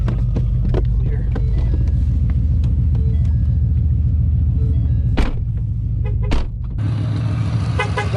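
900 wheel-horsepower Whipple supercharged Mustang GT engine running close by with a loud, heavy, lumpy idle rumble and a couple of sharp blips before settling back.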